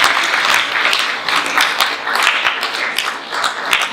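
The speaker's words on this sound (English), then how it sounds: "I did rather expect a little applause there" Dense applause from a theater audience, steady crackling claps filling the whole stretch with slight swells, no voices over it.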